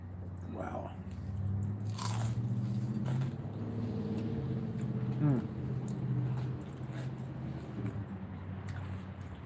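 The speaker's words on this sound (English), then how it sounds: "hear that crunch?" Onion rings are bitten into and chewed with loud, close crunches, heard against a background hum of passing road traffic and a running engine, with a person talking at times.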